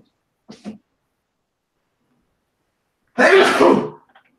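A person sneezes once, loud and close, after a faint short sound, with silence around it in a quiet room.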